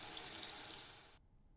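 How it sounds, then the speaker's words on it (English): Water from a running shower hisses steadily and fairly faintly, then cuts off abruptly, leaving near silence. "The shower was still running."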